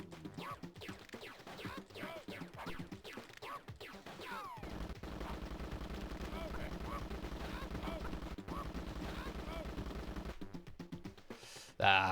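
Bursts of video game gunfire from the chicken-shooting game Chicken Shoot 2, rapid repeated shots running over a steady game music bed, with a loud crash at the very end.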